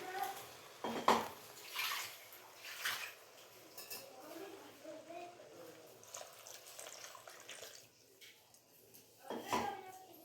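Water poured from a vessel into a mixer jar of ground masala for a potato and pea curry in a home kitchen, a faint trickle with light clinks of utensils and a few louder splashes.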